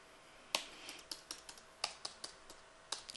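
Keystrokes on a computer keyboard while writing JavaScript code, a sparse irregular series of crisp clicks with short gaps, quiet and close, with no voice.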